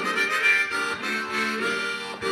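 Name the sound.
G harmonic minor harmonica being played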